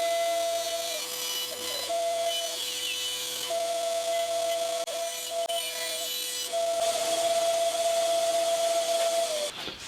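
Steady loud hiss of steam escaping from a wood steamer, bending wood for a bass guitar build, with a thin whistling tone that comes and goes, continuous and close, no voices.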